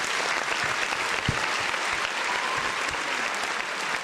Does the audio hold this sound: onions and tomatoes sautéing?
no